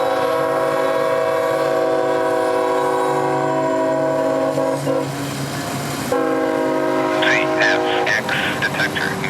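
A CSX freight train passes a crossing on the M&M Subdivision between Montgomery and Mobile, its horn blaring loud and sustained in long blasts over the rumble and clatter of the rail cars close by.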